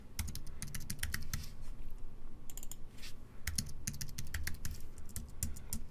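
Rapid typing on a computer keyboard while coding a password text field, with irregular bursts of close, crisp key clicks, short pauses between runs and no talking.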